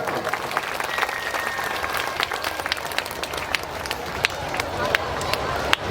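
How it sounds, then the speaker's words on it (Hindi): A crowd at a religious discourse gathering claps steadily throughout, a dense patter of many hands with scattered sharper claps, fairly loud and continuous with a murmur beneath. "ताली बजाकर उनका स्वागत है।"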